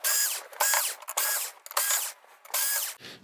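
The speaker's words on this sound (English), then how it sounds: "now we've got a couple screws to get out" A power driver backs screws out of the chassis of an LG 55EG9600 TV, giving five or six short, close whirring ratchet bursts in a fairly even rhythm, with no talking.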